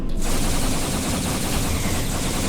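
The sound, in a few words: quick-fire torpedo spread firing in Star Trek Online video game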